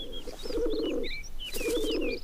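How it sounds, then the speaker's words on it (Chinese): A pigeon coos in two low, rolling bursts close by, while high chirps from other birds flit over the top and fill the short gaps between the coos. "呀，鸽子"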